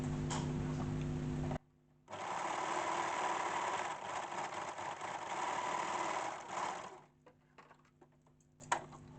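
An overlocker serger runs along the edges of a fabric tote bag, a steady dense mechanical whir that stops briefly and resumes for several seconds before falling quiet, with faint taps at the end.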